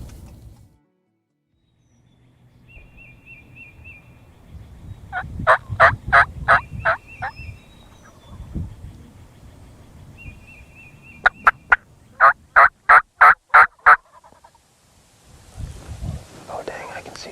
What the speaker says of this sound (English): Oh dang, I can see some turkeys finally.